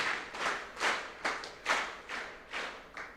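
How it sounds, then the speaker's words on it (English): A conference audience of insurance brokers in Mbarara, Uganda claps together in unison, a rhythmic series of about ten sharp, evenly spaced group claps in quick succession, close and distinct with brief gaps between them. "When I say 5 factorial, we give Mumba a big clap."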